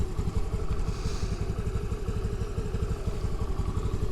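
A 2022 Honda Navi small motorbike idles after a cold start, a steady low putter with a quick rhythmic pulse and some light clatter, heard close and moderately quiet with no talk.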